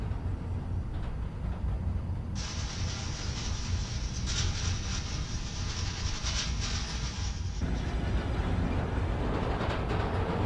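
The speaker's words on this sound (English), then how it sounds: "Hearing the clatter of the wheels, the squealing when the trains turn or stop" Train rolling past in a city rail setting from the Spider-Man: Miles Morales video game, a loud continuous rumble with a bright metallic hiss that swells in the middle and then eases off, with no speech.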